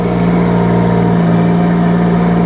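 Mini excavator engine running at full throttle, a loud, close, constant mid-pitched drone with a steady hum and no break throughout.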